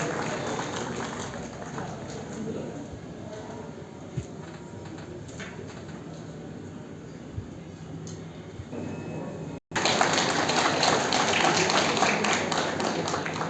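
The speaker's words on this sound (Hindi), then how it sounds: "जोरदार तालियों से आप अभिनंदन करें" Loud, dense applause from the audience at an award and felicitation ceremony, breaking out suddenly near the end and continuing steadily, after a stretch of murmuring crowd noise.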